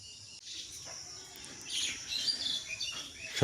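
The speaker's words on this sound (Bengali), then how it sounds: "সকালবেলা পাখির কিচিরমিচিরগুলো ভালোই লাগে" Small birds chirp and tweet outdoors in the morning near a garden with papaya and rose plants, their light calls fairly faint over a quiet background.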